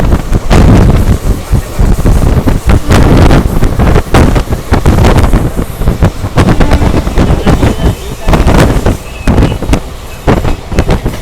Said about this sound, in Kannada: ನನ್ನ ಕೈಯಲ್ಲಿ ಫೋನ್ ಹಿಡ್ಕೊಳಕ್ಕೆ ಆಗ್ತಿಲ್ಲ, ಅಷ್ಟೊಂದು ಗಾಳಿ ಇದೆ ಹೊರಗಡೆ ಈ ಸ್ಪೀಡ್ಗೆ.